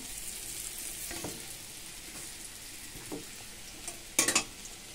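Prawns frying in oil in a pan give a steady, close hiss, broken by a few soft stirring scrapes and a short burst of sharp spatters near the end.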